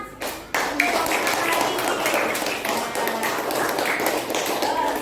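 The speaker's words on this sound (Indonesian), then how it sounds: "Kasih tepuk tangan." A Year 5 class claps in steady applause, a dense patter of hand claps after a brief pause, lasting several seconds at moderate loudness.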